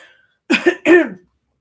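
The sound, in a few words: throat clearing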